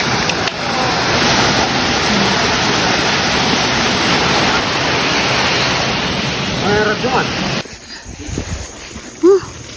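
A waterfall on Mt. Kilakiron roars in a steady, loud wash of white noise. Near the end the rush drops away and a few brief voices come through.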